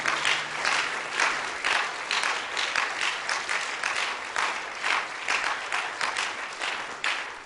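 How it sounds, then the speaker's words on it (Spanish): A church congregation claps together in sustained, even applause that holds steady from start to finish, dense and moderately loud, with no voices over it. "Si va a dar ese aplauso, dáselo a Él que vive"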